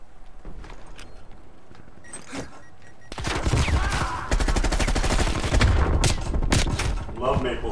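Groza rifle fire in a video game: after a quieter stretch with scattered single shots, a long dense burst of rapid rhythmic gunfire, loud and close, with voices talking over it.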